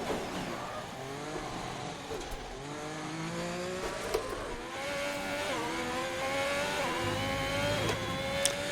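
F1 car engine in the racing game F1 2021, running on track on soft tyres, a steady high engine whine rising and falling through gear shifts, moderately loud with no talking.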